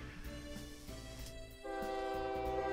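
A steam train in Transport Tycoon Deluxe (OpenTTD) sounds a steady tonal whistle over rumbling running noise, the whistle stepping up louder and fuller partway through, with no talk.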